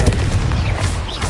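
A Confringo spell explodes in Hogwarts Legacy as a short, loud, rumbling boom with a dense low crackle that fills the whole brief moment.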